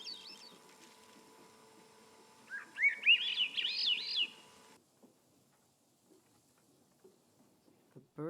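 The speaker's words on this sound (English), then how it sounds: "I apparently only got 2 seconds of a bird." A short recorded bird call played back in the video game Season, bright chirping trills rising over a low background hum for about two seconds, then near silence.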